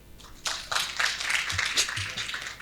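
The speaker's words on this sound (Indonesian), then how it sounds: "Iya, tepuk tangan dulu." An audience at a motivational talk claps in a short, lively burst of close hand claps, loud and fairly even, with no speech over it.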